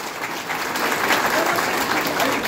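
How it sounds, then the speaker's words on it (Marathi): A crowd claps loudly and continuously at a Shiv Sena party-joining event honoring Eknath Shinde, a dense, even wash of applause throughout. "आपण जोरात टाळ्या वाजवायच्या आहेत"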